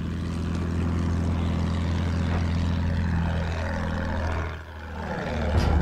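Propeller engine of an attack plane in the Battlefield 1 video game, a loud, steady droning roar that briefly dips and swells near the end as the aircraft passes close.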